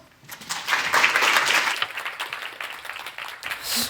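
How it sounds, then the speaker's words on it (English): Applause from the audience at a conference plenary, a broad wash of clapping that swells in the first seconds and then thins gradually, with little speech over it. "Also, you get some applause."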